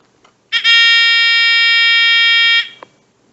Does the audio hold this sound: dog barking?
no